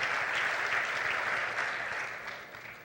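A church congregation applauds in a sustained burst of clapping that gradually fades toward the end, with no voices over it.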